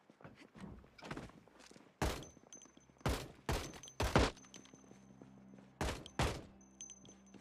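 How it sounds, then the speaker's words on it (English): Sharp gunshots crack in Project Zomboid, about eight distinct reports fired singly and in short pairs at an irregular pace, each with a brief decay, against a quiet background. "Stop shooting shit, Serena."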